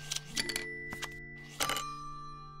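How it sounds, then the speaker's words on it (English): A bright bell chime rings out in the puzzle game A Little to the Left, its clear tones ringing on and fading after a few quick strikes, heard alone at low volume. "You hear that bell?"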